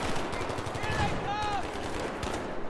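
Rapid automatic gunfire from the Battlefield 3 video game on hard difficulty crackles in a dense, continuous burst, close and loud, with brief whistling tones overhead.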